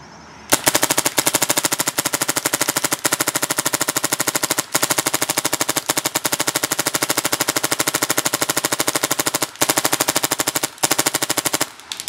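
A Tippmann Crossover XVR paintball marker fires in a long, rapid burst at about 15 balls per second, each shot crisp and evenly spaced, loud and close, with no talking.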